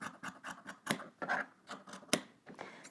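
Scissors trim the fabric of a jacket facing close by, making a quick irregular run of crisp snips and soft rasping cuts against a quiet background, with no talking.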